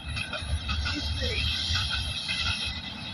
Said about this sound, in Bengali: ট্রেন চলেছে, ট্রেন চলেছে